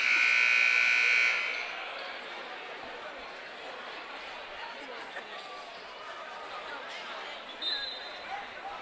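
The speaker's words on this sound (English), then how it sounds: "the buzzer sounds for the end of the first quarter" Basketball game buzzer marking the end of the first quarter, a loud sustained electronic tone lasting about a second at the start, then fading into gym crowd noise, chatter and sneaker movement.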